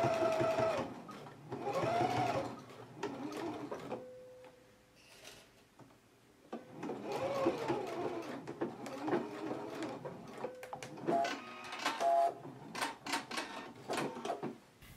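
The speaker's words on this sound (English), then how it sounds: "we can go to the machine and we can stitch close to the seam line" A sewing machine stitches close to the seam line to close a collar opening, running in several bursts with pauses and whirring between them.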